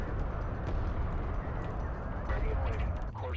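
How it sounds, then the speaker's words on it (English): Explosions and artillery fire rumble continuously through a real-time strategy game match, a dense low booming wash with a few sharper blasts near the end. "I can literally hear action, like I can hear explosions and all kinds of things"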